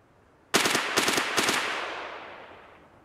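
During a woods raid in a video game, three quick bursts of rapid gunfire ring out close and loud, then trail off into a long, fading echo.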